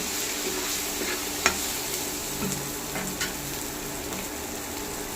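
Garlic paste cooking with spices in a pan for a dhaba-style chicken masala, with a steady sizzle and a few sharp clicks of a utensil stirring against the pan.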